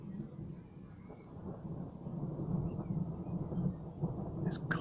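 Thunder rolls through a thunderstorm over Gainsborough: a deep, continuous rumble that swells louder partway through and keeps grumbling without a break.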